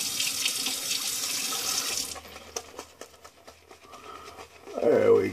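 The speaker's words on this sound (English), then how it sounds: "We're definitely dry here, so let's add some water." A bathroom tap pours water steadily and loudly for about two seconds while preparing a straight razor shave, then the flow stops and only soft splashes and handling sounds remain.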